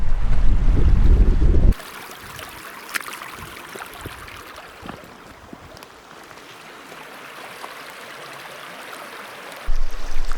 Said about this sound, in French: Il faut que je traverse ce torrent.